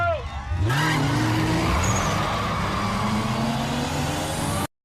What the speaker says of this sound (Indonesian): Terlihat Brian begitu ahli mengemudikan mobilnya.